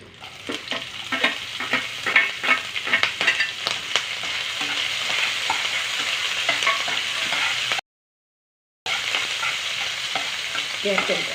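Curry leaves and sliced green chilies fry in a pan with steady close sizzling and occasional stirring clicks, broken by a brief silent gap.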